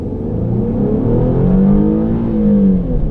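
A 2014 Infiniti Q60S AWD coupe's V6 engine growls loudly and continuously with a deep, rumbling tone that rises slightly as it revs.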